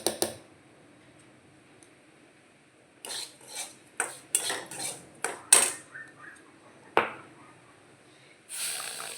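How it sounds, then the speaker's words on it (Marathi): Roasted semolina being stirred with mango pulp in a pan, heard as a series of sharp spoon-on-metal scrapes and knocks in uneven bursts after a quiet stretch, close and fairly loud. "हा पूर्ण आंब्याचा पल्प टाकून आपल्याला मिक्स करून घ्यायचा आहे."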